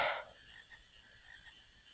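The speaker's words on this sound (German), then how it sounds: "Du hast einen Frosch bei dir, Mampf." A frog croaks in Final Fantasy IX, with a short burst at the start and then a faint, sustained game tone underneath, quiet overall.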